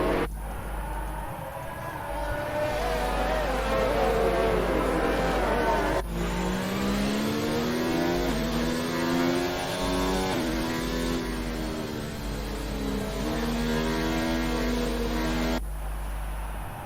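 Race car engines on a formation lap around the Singapore street circuit in a racing video game, a loud continuous drone whose pitch sweeps up and down with revs and gear changes, briefly cutting out partway through.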